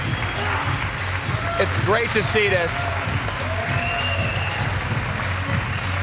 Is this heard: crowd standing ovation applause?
yes